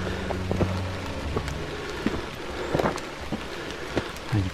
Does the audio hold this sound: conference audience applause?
no